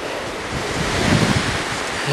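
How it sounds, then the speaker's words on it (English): Strong wind gusts roar and buffet the microphone in a continuous rush, swelling briefly in the middle. "gusting wind"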